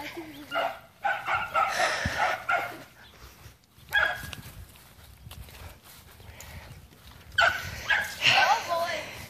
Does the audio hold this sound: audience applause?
no